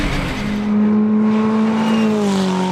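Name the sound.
Ferrari 488 race car on the Dijon-Prenois circuit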